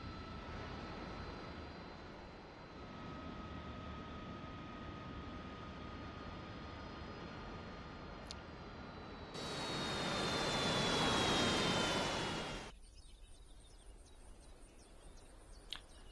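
The AV-8B Harrier's jet engine in DCS: a steady whine with a thin high tone that swells into a loud rushing roar for a few seconds, then drops abruptly to a quiet hiss with faint clicks.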